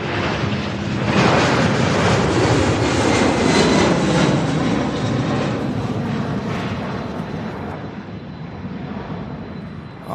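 A fixed-wing airliner takes off at Louisville's SDF airport, its jet engines roaring loud and broadband at the start, then fading gradually as it climbs away.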